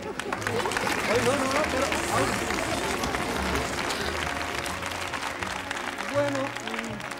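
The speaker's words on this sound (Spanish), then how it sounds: "gracias por vuestros aplausos" TV studio audience applauding at a 1982 New Year's Eve variety show, a steady wash of clapping that runs throughout while people talk over it.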